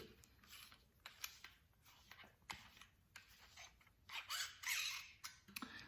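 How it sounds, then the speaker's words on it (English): Small creaking and clicking as a part of a custom lightsaber hilt with brass tubes is unscrewed, quiet intermittent scrapes and ticks close by, no talk. "Let's go ahead and unscrew this guy real quick"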